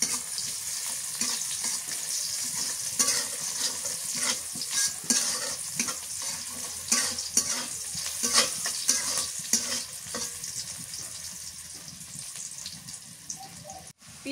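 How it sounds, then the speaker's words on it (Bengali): Onions fry in hot oil in a pan for a spicy shrimp and eggplant curry, with a steady close sizzle and repeated scraping stirs throughout. "পেঁয়াজ ভাজা হয়ে গেছে"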